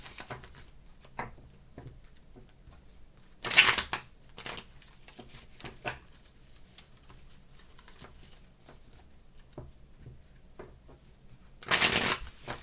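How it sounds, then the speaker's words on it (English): A deck of tarot cards is riffle-shuffled twice, each quick crisp burst of fluttering card noise standing out from a quiet room with soft handling sounds between. "Last shuffle."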